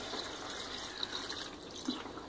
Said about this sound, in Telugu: 2 కప్పుల నీళ్లు పోసుకొని